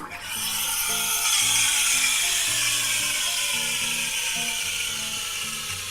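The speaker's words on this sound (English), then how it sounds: "we're going to start off by pressing the cappuccino button to add some air" A Lavazza LB4724 Blue capsule machine froths milk in a jug with the cappuccino function, giving a loud, continuous hissing steam roar that begins abruptly and holds steady, with a faint rhythmic mechanical pulsing running underneath.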